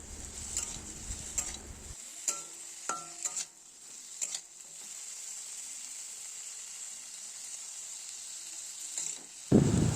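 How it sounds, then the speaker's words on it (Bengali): Pointed gourd pieces fry in oil in a pan, a soft hiss broken by scattered clinks and stirring scrapes, then a louder burst of sizzling at the very end. "ভাজা হচ্ছে।"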